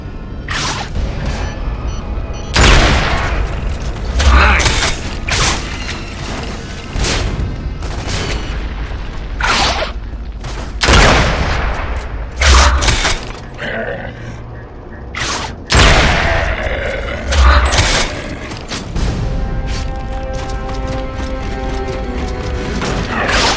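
Sniper gunfire and explosions in the video game Gears of War: Judgment, with sharp loud shots and heavy booms scattered over a constant rumble of battle noise and mechanical clatter.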